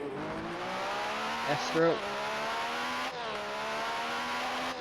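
Ayrton Senna's 1988 Formula One car at the Portuguese Grand Prix, heard on board through a qualifying lap, its high engine whine climbing steadily through the gears with a brief shift, over faint commentary.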